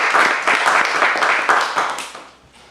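An audience at an awards gathering claps in a brief, lively burst of applause that tapers off quickly toward the end.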